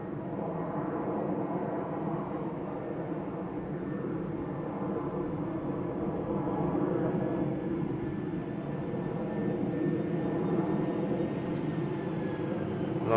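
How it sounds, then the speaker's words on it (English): An EasyJet Airbus A320 arriving at Schiphol from London Luton gives a steady, moderately loud jet roar with a faint rising whine, holding evenly throughout as it approaches. "Got EasyJet flight 22515 up next, arriving from London Luton."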